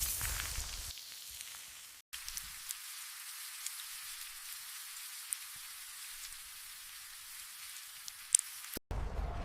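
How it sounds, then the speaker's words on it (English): An acid rain sound effect: a fine, steady hiss of falling drops with a few sharp crackles, cut by abrupt silent gaps near the start and end. "From the poisoned skies falls acid rain, burning plants, corroding life."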